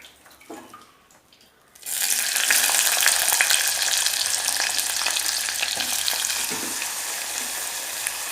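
Onions dropped into a hot kadai of oil for a Kerala-style squid gravy, a sudden loud sizzle that then holds as a steady, bright crackle, with faint stirring under it.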